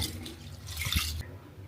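Soaked rice being rinsed in water for chicken biryani, heard as close, soft sloshing and trickling that swells briefly, then drops to quiet room tone.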